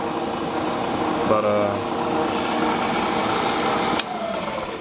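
A milling machine in a workshop runs at full speed, 80 RPM, giving a continuous close whirring hum that changes pitch briefly partway through, while someone talks over it.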